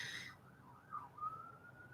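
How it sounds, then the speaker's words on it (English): A faint siren wails far off, its tone sliding and wavering, quiet beneath low background hum. "Sirens in the background."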